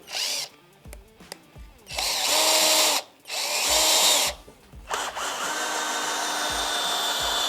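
Cordless drill from a four-piece battery tool set boring into wood, several loud bursts of high whining drilling separated by brief pauses, close and alone.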